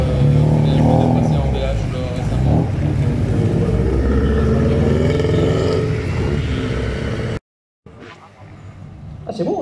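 Old car engine at a classic car rally rumbling and pulling away, a loud sustained rough drone that briefly cuts out near the end, with people talking over it.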